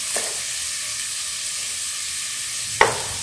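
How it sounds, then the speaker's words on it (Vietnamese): Rendered pork pieces being stirred in their own fat in a pan for braised carp with pickled mustard greens, a steady close sizzle with a sharp scrape of the utensil near the end. "Mình đảo cái phần thịt đã ra mỡ rồi"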